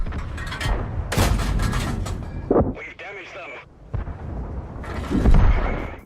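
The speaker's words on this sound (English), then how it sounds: "Ever wanted to get in a tank and blow something sky high? Well, now you can in World of Tanks." Tank cannon blasts and explosions from the video game World of Tanks, heavy booming shots in a loud battle mix, with brief engine and whine sounds between bursts and a voice talking over parts of it.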